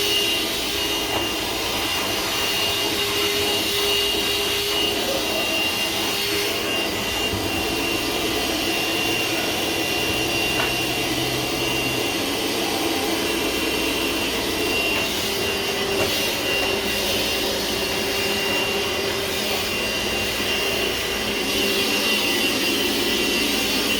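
A vacuum cleaner sucks up debris from the floor of a bus being converted into a skoolie during subfloor and insulation work, a steady loud whooshing drone that runs throughout with no break.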